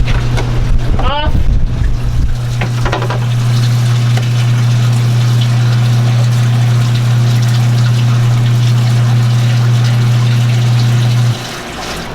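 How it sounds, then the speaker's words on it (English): A cheap electric bilge pump on a sailboat hums steadily for about ten seconds, then cuts off near the end. Water flows into the bilge beneath it, and a brief voice is heard at the start. "I need to hear the pump kick on."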